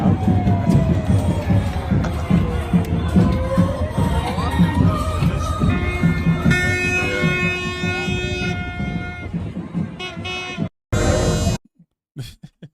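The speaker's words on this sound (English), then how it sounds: "Look at that huge friggin' crowd there. That's a big crowd." A large crowd at a political rally in Ottawa cheers and roars loudly and continuously, with horns blaring and nearby voices talking over it before the sound cuts out abruptly.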